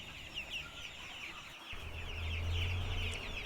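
Chickens on a poultry farm in Jamaica cluck softly in an irregular chatter, with a low rumbling hum underneath that grows louder partway through.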